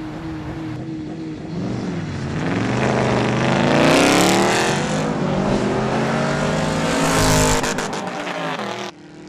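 A race car launches hard off the line in a street race with launch control engaged, its engine revving and climbing through rising gear pulls, loud and close before cutting off abruptly.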